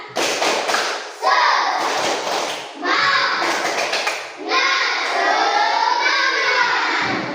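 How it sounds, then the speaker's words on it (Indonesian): Classroom children clap a rhythmic spirit clap together, loud and close, in several bursts of quick unison claps with brief pauses and thumps between them. A voice chants along. "Tepuk semangat."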